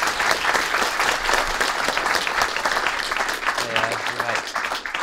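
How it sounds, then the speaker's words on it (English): Audience at a demonstration of a plesiosaur robot giving a volunteer a round of applause, brisk, continuous clapping from a room of people lasting several seconds, with a brief voice near the end. "If you could give her a little round of applause."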